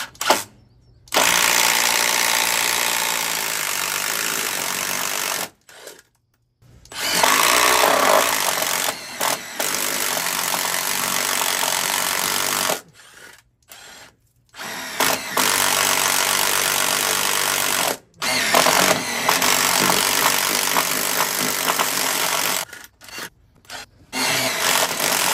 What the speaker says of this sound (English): I'm going to have to make another one over here and drill through this